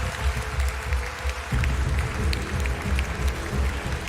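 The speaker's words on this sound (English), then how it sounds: "I think you deserve a round of applause as well." Audience applause for a debater at a minimum-wage debate competition, a dense steady patter of clapping that swells at about a second and a half and carries on to the end.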